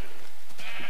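A single short sheep bleat from Minecraft, near and clear, lasting under a second with no talk over it.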